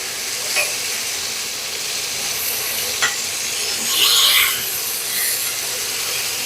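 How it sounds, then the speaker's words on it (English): A venison chipotle quesadilla sizzling in a pan, loud and close, with a couple of sharp spatula scrapes and a brief swell of hissing as it is flipped onto a fresh spot. "when I flip it, I'm going to go to another side of the pan that has nothing on it"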